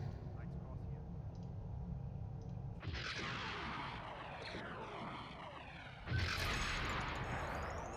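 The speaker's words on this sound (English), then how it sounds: "Small explosion, big explosion." Explosions in the Company of Heroes Star Wars mod crash in twice, a sharp broadband blast near the three-second mark and another louder one near six seconds, each rumbling on over a steady low battle drone while someone talks.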